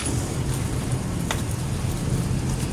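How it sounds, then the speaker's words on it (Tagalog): Light drizzle falling in Caloocan near the San Jose del Monte boundary, a steady, dense outdoor hiss with a low background rumble and one faint tick, continuous and without speech. "medyo umaambon dito sa Caloocan"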